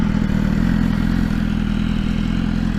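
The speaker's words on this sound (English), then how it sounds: "The exhaust sounds awesome. It sounds like a full exhaust system." A 2016 BMW S1000RR motorcycle with an Akrapovic exhaust, running with a loud, steady, deep engine rumble and mechanical clatter, close and constant with no talk.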